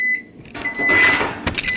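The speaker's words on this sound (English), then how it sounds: "here's your 4-second warning that you're about to hear the nuker beep" A microwave oven in a home kitchen gives a short electronic beep, a thin steady tone against light room noise and a few soft clunks.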